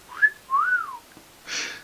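A person whistles alone, two short rising and falling notes followed by a breathy airy puff, fairly close and clear.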